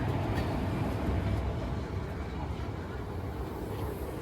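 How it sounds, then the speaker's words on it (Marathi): A train arriving at Selu station gives off a loud, continuous low rumble and clatter that fades slightly toward the end. "ही आपली ट्रेन आली"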